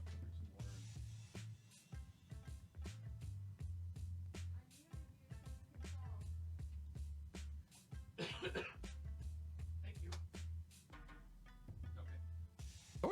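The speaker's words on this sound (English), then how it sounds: "And of course, I'm going to pick this moment to need to cough." A person coughs and clears their throat repeatedly, up close and fairly quiet, in a series of short bursts over a low indoor hum.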